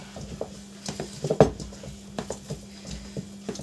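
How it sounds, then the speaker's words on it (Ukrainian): Oil and flour added to a bowl as sticky dough is mixed by hand for Easter baking, with soft patting, scraping and clinking of the bowl in an irregular rhythm, close and moderately quiet. "зараз ми трошки додаємо олійки, додаємо муки"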